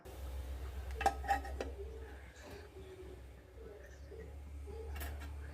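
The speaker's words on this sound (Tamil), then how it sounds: "நல்லா கிளறி விட்டுக்கலாம்" A spoon stirs spiced bitter gourd poriyal masala with coriander and cumin powder in a pan, giving a few quiet metallic clinks and scrapes early on over a low steady hum, then softer shuffling.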